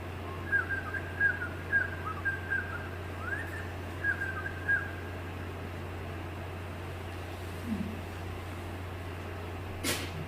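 A butcherbird, a predatory songbird and mimic in Australia, repeats a series of clear, fluting notes at a distance over steady background hum, fading out after a few seconds.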